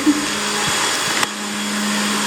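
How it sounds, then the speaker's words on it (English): A vacuum cleaner hoovers in an empty house, a loud steady motor whine that runs the whole time. A small knock comes partway through, and no one speaks. "the noise is because I have my little helper doing some hoovering"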